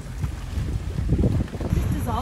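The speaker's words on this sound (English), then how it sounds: "Man, it is windy." Strong wind buffets the microphone in a constant low roar, with choppy water sounds beneath and a brief voice near the end.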